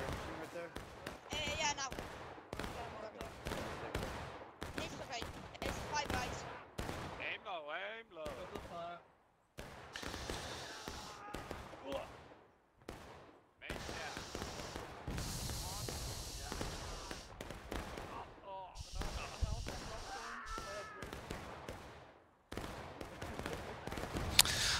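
Musket volleys in War of Rights, sharp cracks and rolling bursts of gunfire repeating throughout, some near and loud, others distant, with voices talking over the shooting and brief lulls between.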